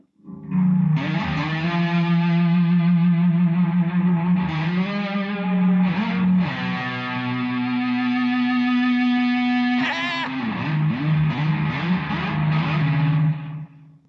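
Sustained electric guitar feedback from a Gibson Birdland through a Fender Twin Reverb amplifier: loud, distorted, droning tones that swell and bend in pitch, with a few sliding shifts, holding steady for over ten seconds.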